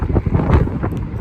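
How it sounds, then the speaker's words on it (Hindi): Strong wind buffets the microphone outdoors in a Finnish town, a loud low rumbling roar in gusts across a brief moment. "ये देखें बहुत तेज़ हवा है।"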